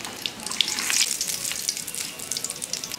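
A bay leaf sizzles in hot oil with cardamom, cinnamon and black peppercorns during Bengali home cooking, giving a steady close crackle with sharp spitting pops and no talk.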